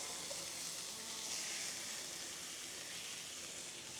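Onions laid onto a hot smash-burger griddle give off a steady, bright sizzle that holds evenly throughout, close and moderately loud with no voices.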